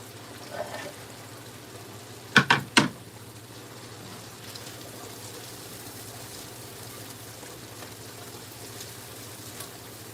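Food drops into a pan to fry alongside sausage: two quick sharp knocks, then a steady soft hiss and crackle of frying throughout.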